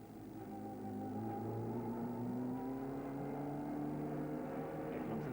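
Engine of a BP Nissan Primera touring car, heard from the onboard race cam during the 1997 South African touring car round, drones loudly and steadily close up, with its pitch sliding gradually as the car runs through the kink toward pit entry.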